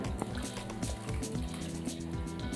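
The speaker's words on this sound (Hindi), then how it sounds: "इमली को सबसे पहले खुला पानी डाल के" Running water is poured over about 250 grams of tamarind to wash it, splashing and trickling steadily with gurgling, bubbly liquid sounds up close.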